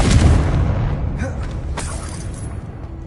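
A Confringo spell explodes in a video game at a witch's sarcophagus, giving a loud, close, rumbling blast that decays into scattered crackles and debris.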